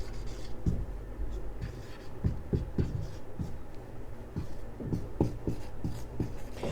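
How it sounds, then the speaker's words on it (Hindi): A pen scratches across paper while a heading is written out, scattered short strokes and taps in an uneven rhythm, close and moderately loud with no voice over it. "सब लोग ऊपर हेडिंग लिख लेंगे आप बाउ नियम"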